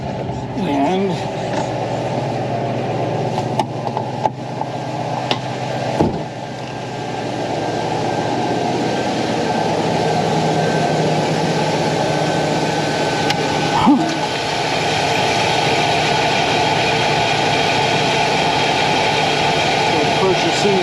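A 5.4-liter engine in a 2000 Ford F250, freshly fitted with new injectors, plugs and coils, holds a steady idle around 1200 RPM, a moderate continuous hum with a few brief clicks and knocks.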